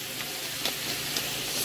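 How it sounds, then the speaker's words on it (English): Carrots frying in a home-cooked meal kit dish give a steady, quiet sizzle and hiss throughout, with faint stirring clicks and no talk. "we're frying the carrots"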